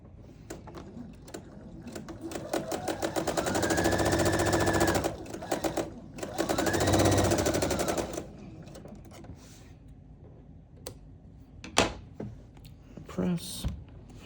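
A sewing machine stitches quilt fabric pieces together in two sustained runs of rapid, humming needle action, surrounded by softer mechanical clicks and handling noises, with light speech around it.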